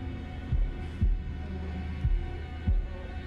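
A heartbeat sound effect in the horror video game Man of Medan thumps in low, deep double beats at a slow, steady pace over a constant dark hum.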